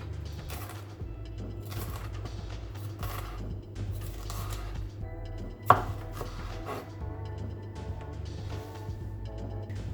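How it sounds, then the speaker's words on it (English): A knife chops cilantro on a board in quick, uneven strokes, close and crisp, with one sharper knock partway through. "Now just chop this into the sizes that you like"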